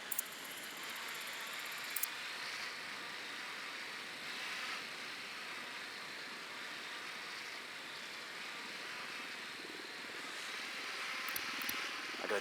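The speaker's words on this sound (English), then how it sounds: "Deploying drone." A deployed recon drone hovers in the video game Ghost Recon Wildlands, a faint, steady propeller buzz with light whirring running throughout, with a few brief interface blips at the start and end.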